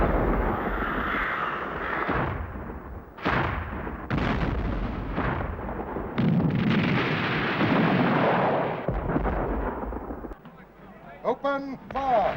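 Musket and cannon fire at a Sealed Knot English Civil War reenactment of the 1642 Battle of Warwick: loud booming blasts and crackling volleys, mixed with shouting from the field.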